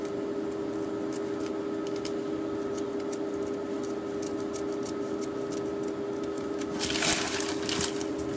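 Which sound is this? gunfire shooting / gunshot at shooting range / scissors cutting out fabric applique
scissors cutting out fabric applique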